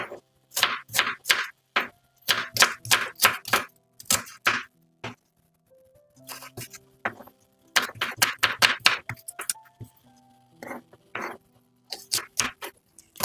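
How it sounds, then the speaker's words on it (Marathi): Onions being chopped finely with a knife on a board, quick runs of crisp, close taps in rhythmic bursts separated by short pauses, with no talking. "याच प्रकारे सगळे आपल्याला कांदे हे चिरून घ्यायचे आहे."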